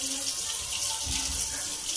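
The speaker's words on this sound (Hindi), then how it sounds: "ऐसे ही पानी निकलता है" Water runs steadily from a tap into a basin at home, a continuous soft hiss of flow that stays even and fairly quiet throughout, with no talk over it.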